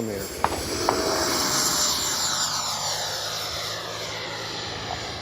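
An FMS 80mm F-86 Skyblazers RC model jet with a KM afterburner flies past, its steady turbine whoosh and whine rising and fading as it passes at a moderate distance, with a few faint clicks.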